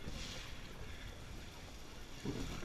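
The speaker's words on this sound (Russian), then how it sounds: "Гудят натужено моторы." Motorboat engines drone steadily while towing a banana boat on the water, a continuous low rumble mixed with wind buffeting the microphone throughout.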